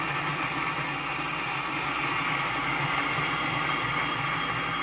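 Motor of a Lagom P64 coffee grinder spinning at its highest RPM, a steady close mechanical hum with a constant whine and no pauses throughout.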